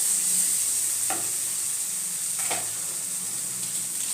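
Spice masala sautéed in a pan for dal tadka, a steady hiss of frying with two brief scraping stirs of a spatula, close and alone.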